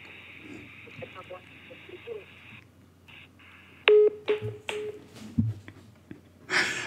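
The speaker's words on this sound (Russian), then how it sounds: "Уже с другого номера звонит Чукча" Telephone keypad dialing tones ring out during a phone call with a scam caller, a quick run of close, sharp electronic beeps after a stretch of faint line noise and murmured speech.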